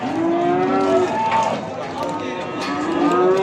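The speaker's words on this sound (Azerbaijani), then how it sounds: "Hamısı qara cins mallar." Black-breed cattle at a livestock market moo in long, drawn-out calls, loud and close, with a busy background of other animals and market noise throughout.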